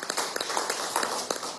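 Crowd applause for Portuguesa at a government event in Miraflores, steady brisk clapping from many hands with a few sharper nearby claps.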